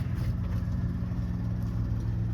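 A light aircraft's engine runs at a steady low idle on the ground, a constant droning rumble with no speech, as the throttle is pulled back just before shutdown.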